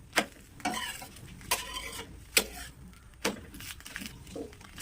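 Poo ada frying in a pan while being stirred and flipped, faint sizzling under a run of sharp scraping clicks from a utensil against the pan, heard close and quiet.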